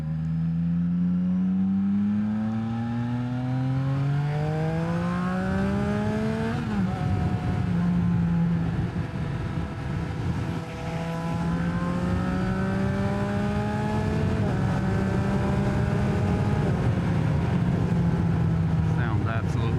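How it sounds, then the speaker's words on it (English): A 2023 Yamaha XSR900 with an SC Project exhaust accelerates on a freeway, its loud engine note climbing through the gears in long rising sweeps with short dips at each shift, steady wind roar underneath. "get a nice sound bite of this exhaust"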